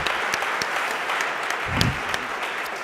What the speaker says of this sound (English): Let's give Erik a round of applause